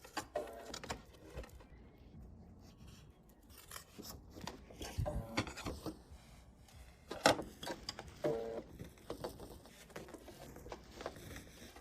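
Scissors snip out the corners of a quilted fabric potholder, a series of close, quiet irregular cuts and rustles of cloth with scattered handling noise and no speech.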